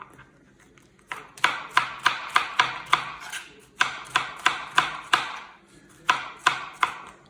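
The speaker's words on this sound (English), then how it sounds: "we're just going to cut these up rough. So nothing too special, just in strips" A knife chopping vegetables roughly into strips on a cutting board, sharp close knocks in quick runs of five to eight, separated by short pauses.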